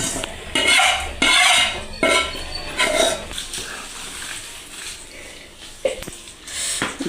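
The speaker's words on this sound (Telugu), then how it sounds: "పోపు వేసేసుకొని ఇంకా కలుపుకోవటమేనండి" Amla pickle being stirred with tempering in a kitchen, with repeated scraping and clinking of a spoon against a pot or bowl in uneven bursts, close by and fairly loud.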